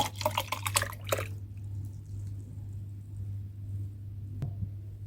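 A short burst of boiled water pouring into a jar at the start, then quiet with a low steady hum and a faint knock near the end.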